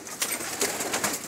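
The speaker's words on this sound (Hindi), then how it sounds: "आपको ये मेरे मगर कबूतर हैं" Pigeons kept on a rooftop coo softly in a short, faint stretch, a few breathy pulses rising and fading over light background hiss.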